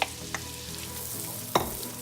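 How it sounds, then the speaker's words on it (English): Chopped onions fry in melted butter and olive oil in a close pan, hissing steadily under a few sharp spoon clacks and stirring scrapes, with no voices. "we're gonna add in the onions"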